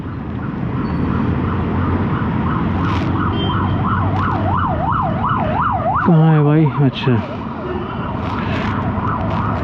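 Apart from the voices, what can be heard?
ambulance siren passing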